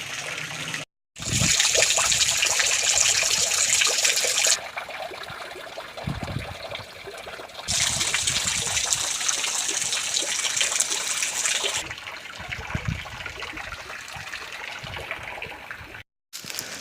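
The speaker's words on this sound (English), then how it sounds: "Well, that little waterfall was beautiful" A small waterfall on a bushwalk in the Royal National Park, Australia, gives a steady close trickle and splash with no talk. The flow swells louder and softer in broad stretches.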